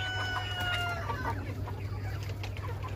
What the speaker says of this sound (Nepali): हेर्नुलाई भाले माथि बसिरहेको छ है